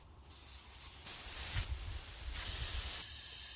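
Air hisses steadily out of an off-road vehicle tire through a screw-on tire deflator, a close continuous hiss that swells in loudness with no talk.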